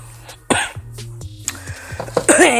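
A person with bronchitis coughs several times in quick succession, close and loud, with some throat clearing among the sharp bursts.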